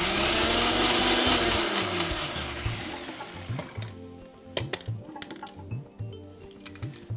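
A blender grinds millet chutney to a coarse or fine paste, whirring loudly and steadily for about three and a half seconds before cutting off, followed by scattered clicks and clatter.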